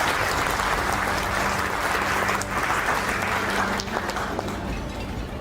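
A crowd of students and parents applauds at a JEE Advanced results celebration, loud sustained clapping that carries on throughout and eases slightly toward the end.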